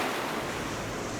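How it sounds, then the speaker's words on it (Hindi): Ocean waves at Morjim Beach in Goa make a steady, loud wash of surf with no break, alone and with no voices. "और मोरजिम बीच गोवा में पड़ता है।"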